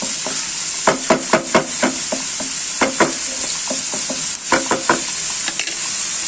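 Onions, green chillies and moringa leaves shallow-fry in a pan for a cutlet mix, giving a constant bright oily hiss with bursts of spatula scrapes and taps stirring the greens. It is loud and close, with no talking.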